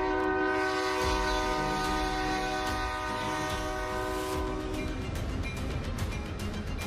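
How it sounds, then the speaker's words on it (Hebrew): Passenger train in motion with a sustained horn-like drone over steady rumbling and rail noise, continuous and fairly loud throughout, with faint clicking toward the end. "רכבת, תראה"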